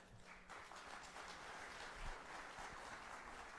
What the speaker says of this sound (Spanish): eu vou pedir uma salva de palmas para o Renan Padovani